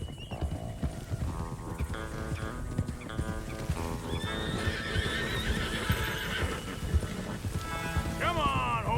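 Horses in Red Dead Redemption 2 whinny and neigh over steady clip-clopping hooves, with a loud, shrill neigh near the end and continuous rumbling movement underneath.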